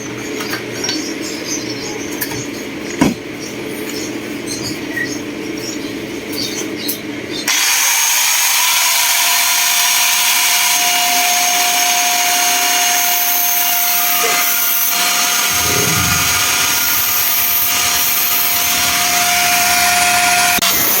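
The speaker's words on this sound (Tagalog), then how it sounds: "Palitan mo na ng cutting wheel yung grinder." An angle grinder fitted with a cutting wheel, used in a welding workshop, runs as a loud, steady high-pitched whine that begins about a third of the way in and holds constant to the end, after quieter background noise.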